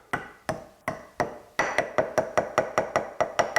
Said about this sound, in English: it's just really a case of holding it and just tapping it down